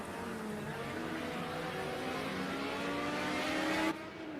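Vintage touring car racing around Lydden Hill GP in a racing video game, a steady loud engine drone with rising pitch as it accelerates, cutting off abruptly near the end as the view changes.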